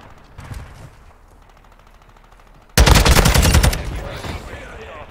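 TAQ-56 rifle fire in Modern Warfare 2, quieter distant shots early on, then a loud sustained close-range automatic burst with rapid rhythmic reports lasting about two seconds.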